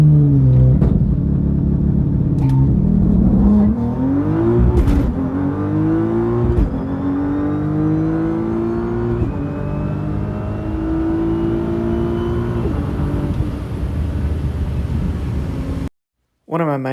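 A Nissan R35 GT-R launches hard on a drag strip, its engine climbing through rising gear-by-gear revs as it accelerates away. The loud, steady roar cuts out abruptly near the end.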